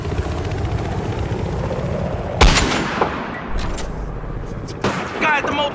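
Sniper rifle shots in the shooter game Battlefield Hardline ring out as a few sharp cracks over a constant loud roar of engine or rotor noise, with a burst of shouting in the mix.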